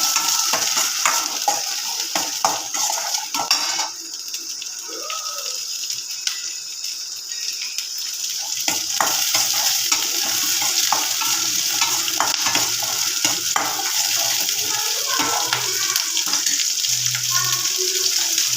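Grated coconut and garlic sautéing in a pan for sundaikkai thuvaiyal, a steady close sizzle with a spatula scraping and stirring throughout, no talking.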